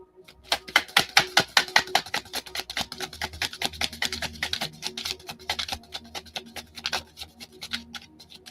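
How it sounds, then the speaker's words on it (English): Tarot cards shuffled by hand up close, a run of rapid crisp clicking and riffling taps in quick bursts that slow and fade toward the end. "I'm going to shuffle two more times."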